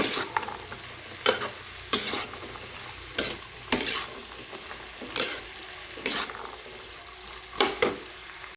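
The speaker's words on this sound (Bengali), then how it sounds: "একটু ভাজা ভাজা করে নেব তো কিছুটা মটরশুঁটি আমি দিয়ে দিলাম" Green peas lightly fry in a pan for vegetable soup, a soft sizzle broken by regular scraping strokes of a spatula, close and fairly quiet, with no talking.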